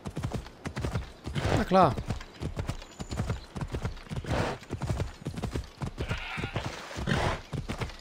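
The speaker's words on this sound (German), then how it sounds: "Und wir haben das langsamste Pferd aller Zeiten." Rhythmic clip-clop of horse hooves trotting steadily in the video game Assassin's Creed Odyssey, with a brief whinny and someone speaking German over it.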